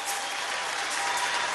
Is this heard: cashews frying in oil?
no